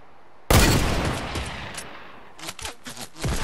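Gunfire in the Fortnite video game: one sharp loud blast that rings out, then a quieter stretch before a rapid burst of several close shots.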